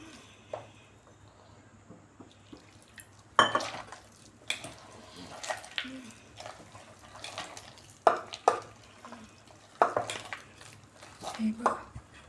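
Bhaji batter being stirred and mixed in a bowl while water is added a little at a time, giving soft scraping and clinking knocks of a utensil against the vessel in irregular bursts, close by with no talking.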